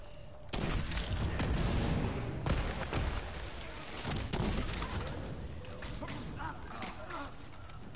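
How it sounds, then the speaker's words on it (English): A grenade in The Division 2 video game going off as a loud, close blast whose heavy rumble lingers and then slowly fades under continuing game noise. "Grenade. Going out."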